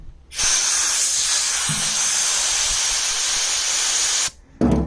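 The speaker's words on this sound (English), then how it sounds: "I've been hitting it with compressed air" Compressed air blasts in a loud, steady hiss for about four seconds against the damp body of a 1944 Dodge WC52 truck during a repaint, stops briefly, then starts again.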